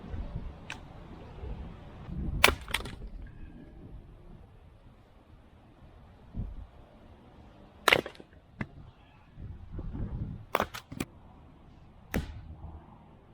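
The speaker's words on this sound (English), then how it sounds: "take a couple pieces of this hardwood, make it smaller, and get that fire going good" Hardwood is split and broken into small pieces for a fire outdoors, heard as sharp, scattered cracks and snaps at irregular intervals over steady wind rumble on the microphone.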